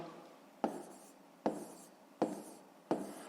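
Handwritten numbers being written on paper during a fifth-grade maths division exercise: four crisp, evenly spaced strokes, each fading quickly, close and fairly quiet, with no talking.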